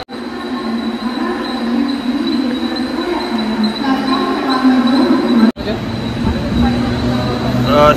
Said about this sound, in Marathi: आता आमची ट्रेन आलेली आहे